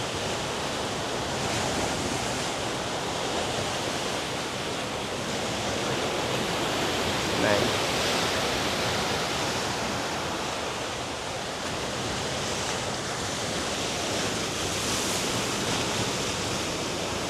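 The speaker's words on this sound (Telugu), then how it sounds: "కింద అల్లలు వల్ల కొట్టుకుంటున్నాయి." Sea waves crash below the shore at Baga beach in Goa, giving a continuous broad rushing wash of surf that swells and eases gently with no voices.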